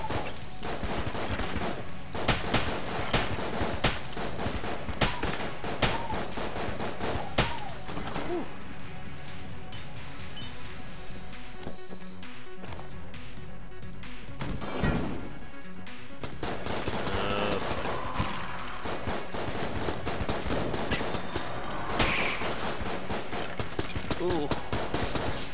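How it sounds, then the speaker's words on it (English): Gunfire in the video game Enter the Gungeon, dense rapid bursts of shots running almost continuously alongside crashes and game effects, with a person talking over it. "There's a time to use your basic gun, and there's a time to just blast them."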